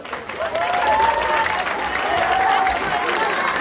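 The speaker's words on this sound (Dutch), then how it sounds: "Maak een groot applaus voor het nieuwe drietal." Audience applause greeting a new youth carnival prince trio at a carnival proclamation event, with steady dense clapping and some crowd noise, while a voice rises faintly above the clapping at moments.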